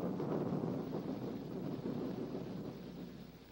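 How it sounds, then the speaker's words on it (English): Thunder as a sound effect: a steady, low, dull rumble that rolls on for a few seconds at moderate loudness and tapers slightly toward the end, with no talking. "Thunder"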